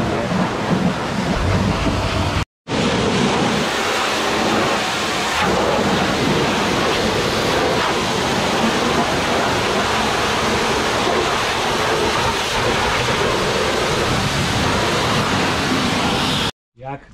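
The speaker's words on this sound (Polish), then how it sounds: "Lejemy za pomocą tej lancy bądź też opryskiwacza" A lance blasts cleaning solution over a New Holland CX6.80 combine, making a loud, unbroken roaring hiss that cuts out briefly twice, in cold outdoor conditions.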